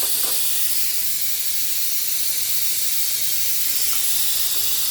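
Cut potato fries dropped into hot oil give a loud, dense, continuous hiss of frying that holds steady the whole time, close and alone with no talking.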